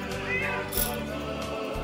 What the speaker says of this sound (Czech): To teďka to byly kočky.